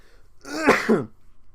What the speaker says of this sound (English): No, that was a cough.